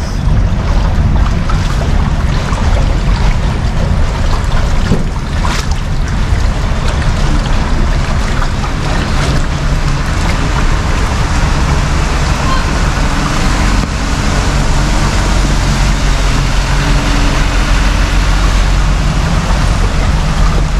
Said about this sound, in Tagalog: Dito ay traffic sa labas